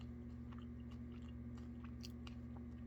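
Close, soft chewing of a peanut butter filled protein ball, with small moist crunches and mouth sounds over a steady low hum.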